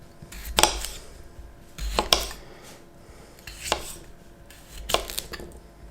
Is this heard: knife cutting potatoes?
yes